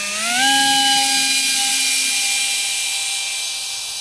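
Esky Eyas RC plane's electric propeller motor spinning up to a steady high-pitched whine, loud and close, holding an even tone with strong harmonics for several seconds.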